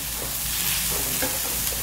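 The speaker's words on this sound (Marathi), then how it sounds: "5 मिनिट आपल्याला लागलेले आहेत या बिया भाजण्यासाठी" Ridge gourd seeds roasting on a flat griddle, a soft steady crackle and sizzle with faint stirring scrapes, close and unbroken.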